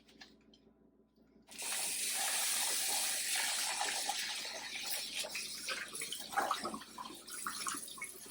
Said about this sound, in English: Just go ahead and wash your dishes off with water